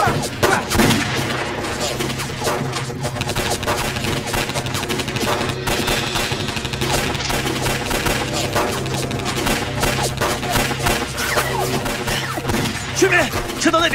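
Dense, continuous gunfire and crashing fill a battle scene in a Chinese wartime action film, with sustained loud shots under shouting voices and a musical score.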